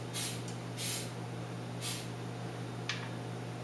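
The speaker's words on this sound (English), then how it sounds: "Now take all of your muffin rings and spray the insides." Cooking oil spray hisses from a can onto the insides of muffin rings for vegan English muffins, three short bursts followed by a brief faint one, close and quiet over a steady low hum.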